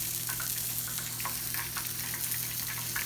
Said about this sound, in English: Steak is cooking, onion rings are frying.